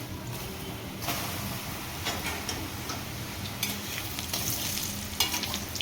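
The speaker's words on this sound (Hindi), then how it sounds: "ये देखो तेल जो है फर्स्ट क्लास गरम है, धुआं उठ रहा है इसके अंदर। बस इस टाइम पे हम ये जो मशरूम है कोटेड, ये सारे इसमें डाल देंगे।" Coated mushrooms frying in smoking-hot oil for chilli mushroom, a steady broadband sizzle with crackling bursts and a few sharp pops, close and continuous with no voices.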